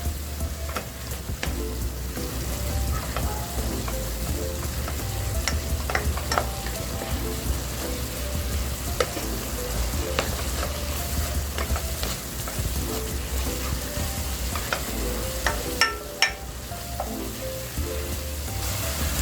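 Ground pork frying in a pan with oyster sauce for menudillo, a loud continuous sizzle under repeated scraping and clinking of a spatula as it is stirred.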